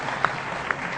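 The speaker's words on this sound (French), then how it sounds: "Nous vous applaudissons." Applause from the audience at a ministerial closing speech, a short, dense burst of clapping that fills the whole moment at moderate level with no voice over it.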